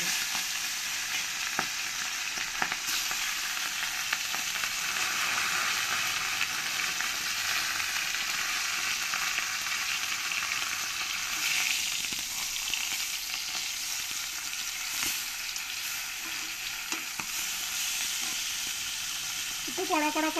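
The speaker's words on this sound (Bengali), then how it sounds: "এবার আমি বাকি মাছের মাথাগুলোও একইভাবে ভেজে নেব।" Katla fish heads frying in oil in a home kitchen, a loud continuous sizzle and hiss lasting the whole stretch, with occasional small clinks.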